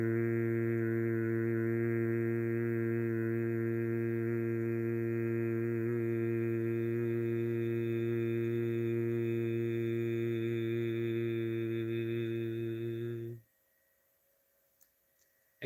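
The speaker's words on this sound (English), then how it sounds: "We're going to do the bumblebee breath, Brahmari breathing." A single person's low, steady bhramari (bumblebee breath) hum during yoga practice, droning evenly and close for about thirteen seconds before cutting off into near silence.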